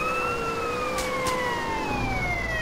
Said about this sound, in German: Ich mache aber mal hier kurz die Sirene aus.